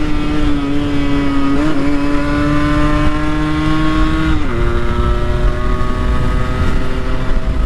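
A Yamaha RX 100 motorcycle engine drones steadily, its pitch dipping and rising in brief blips as it downshifts with rev matching, loud and close throughout, with a slight noise from the gearbox.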